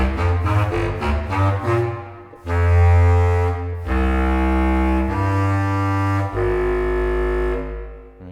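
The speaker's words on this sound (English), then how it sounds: "that sounds like this, Contrabass Clarinet." Contrabass clarinet from the CineWinds Pro woodwinds library sounds deep, reedy, sustained low notes, starting with a few short phrases and then moving into long held tones, loud and close with no voices.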